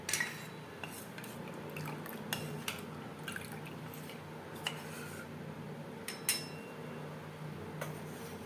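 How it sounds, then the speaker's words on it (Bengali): Custard powder stirred into heated, slightly thickened milk in a bowl, heard as soft intermittent spoon clinks and scrapes against the bowl with faint liquid swishing, alone and fairly quiet. "বেশ ভালো করে গুলে নেব দুধে অ্যাড করব কাস্টার্ড পাউডার"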